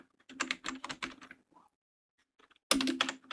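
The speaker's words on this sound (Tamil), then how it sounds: "நம்ம நேமை டைப் பண்ணிடலாம்" Rapid keystrokes on a computer keyboard as a name is typed into a registration field in a typewriting learning application, with two bursts of tapping separated by a short quiet pause.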